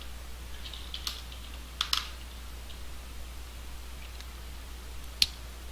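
A few sparse, quiet keystrokes on a computer keyboard while a command is entered on a Raspberry Pi; there are isolated clicks around the one-, two- and five-second marks with no talking.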